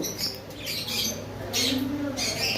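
Conure parrots squawk in bursts, harsh shrill calls repeating at moderate distance over a steady background hum.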